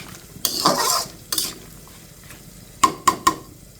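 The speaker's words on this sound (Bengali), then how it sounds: "লবণটা দিয়ে একটু মিশিয়ে নেই।" A spoon scrapes and stirs through beans and potatoes frying in oil as salt goes in, with bursts of sizzling and several sharp clinks against the pan, close and loud, with no talking.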